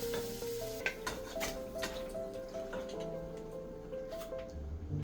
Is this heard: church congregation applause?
no